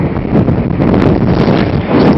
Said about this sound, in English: I don't know if you can hear the wind